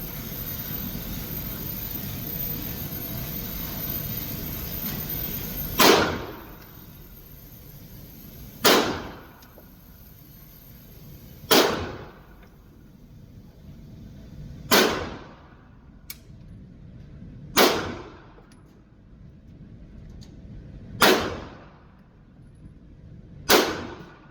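Seven sharp gunshots ring out at a shooting range, each loud, close crack fired about every three seconds and followed by a short echoing decay, with quiet background between shots and no talk.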